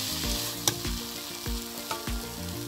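Rice and lentils going into a pot of sizzling vegetables for khichuri, with steady loud frying hiss and several sharp stirring scrapes and clinks close by.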